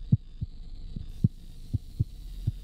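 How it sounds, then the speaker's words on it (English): A heartbeat pounds from old machinery in The Cat Lady video game, a series of low, muffled thumps spaced irregularly under a faint steady hum, with no talking. "But you hear the heart beating though."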